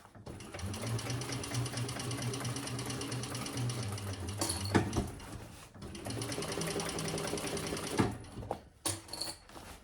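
A sewing machine stitches a tote bag with a seam guide in long, steady runs of rapid mechanical whirring, broken by a brief pause and a few sharp clunks near the end.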